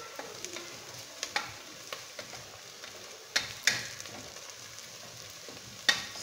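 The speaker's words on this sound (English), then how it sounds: "So I will allow the onions to cook a little bit before I add my garlic" Red onions frying in a pan with a steady low sizzle, broken by several sharp clicks and taps of a utensil stirring, fairly quiet and close with no talk.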